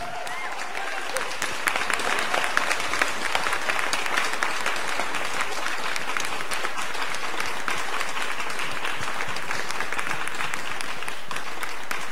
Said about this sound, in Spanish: te pedimos un minuto de aplausos